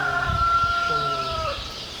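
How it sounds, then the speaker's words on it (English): A person clucks as a verbal cue to a young gelding during ground work, a brief close clicking sound over quiet background with faint tonal noise. "some leading exercise here, and a clucking to give him a little verbal cue"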